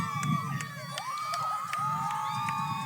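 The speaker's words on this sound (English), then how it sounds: "Making some noise. See if the crowd can get into this." Spectators cheer and shout in the stands at a youth football championship game in overtime. The sound is a distant, steady crowd roar with scattered whoops and high calls.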